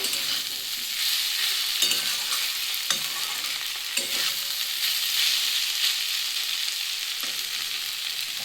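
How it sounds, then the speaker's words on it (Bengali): Radish greens frying in a pan: a loud, steady sizzle runs throughout, with a spatula scraping and stirring roughly every second, close by and with no talking. "আলুর শাকটা পুরো পারফেক্ট ভাজা হয়ে গেছে"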